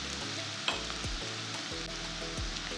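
Onions sizzle in hot oil with a little salt, a steady crackling fry broken by several sharp scrapes and knocks of stirring, close and fairly quiet.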